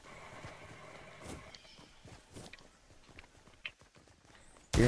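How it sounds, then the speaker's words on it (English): Footsteps in Fortnite, a run of light, irregular steps patting along at moderate distance, ending in a sudden loud burst. "I hear footsteps"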